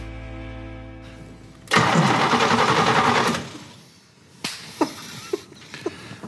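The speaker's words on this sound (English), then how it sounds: "Engine sounds great." A 1966 Oldsmobile Cutlass engine cranks, catches with a loud roar for a couple of seconds, then settles into a quieter running idle punctuated by a few sharp clicks or pops.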